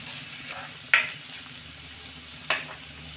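Green chillies, two cut into four pieces, drop into vegetable peels frying in a pan, giving a quiet continuous sizzle broken by two sharp crackling bursts.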